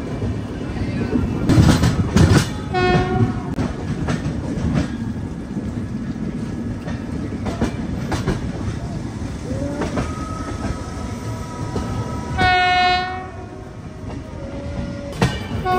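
A Chennai-Jaipur Superfast Express with ICF coaches rumbles steadily on the outer tracks near Bhopal Junction, with rattling wheels, brief squeals and a couple of horn notes sounding midway and near the end.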